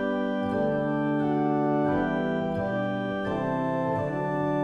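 Pipe organ with the 4 foot principal and 8 foot flute stops drawn together gives a fuller, rounder sustained tone, held chords shifting slowly in a reverberant space, with no talking.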